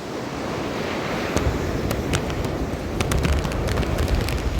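Stormy winter sea waves surge and crash along the shore at Mina Hashish, a continuous loud roar of surf with wind buffeting the microphone and heavier breaking bursts toward the end.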